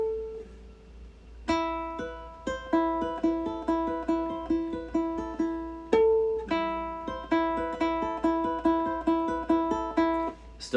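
A ukulele in high G tuning plays a bright fingerpicked pattern from a song, with clear plucked notes in a steady rhythm, close and solo, no voice.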